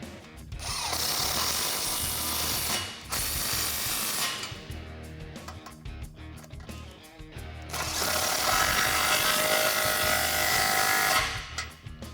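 A ratchet with a 13mm socket tightens an exhaust hanger on a Jeep Wrangler JL during a cat-back exhaust install, producing bursts of fast clicking and rasping with short pauses between them, close up and without talk.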